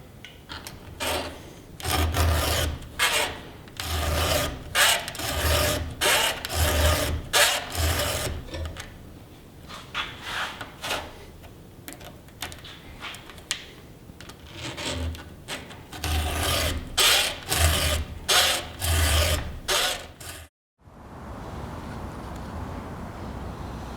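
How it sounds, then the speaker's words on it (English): A chainsaw chain is hand-filed to sharpen its teeth, the file making rhythmic rasping strokes in close, steady bursts, pausing briefly midway before resuming, then falling silent near the end. "this is a new chain that we have sharpened down the chainsaw tooth"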